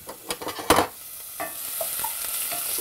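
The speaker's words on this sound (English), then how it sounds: "I'm going to quickly saute that." Onions sauté in olive oil in a pan, with a steady bright sizzle throughout and a cluster of scraping, clattering stirring strokes up close in the first second, then softer occasional stirring.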